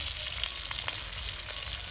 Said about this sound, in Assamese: এতিয়া কি মাছলি ভাজি আছে, মাছলি।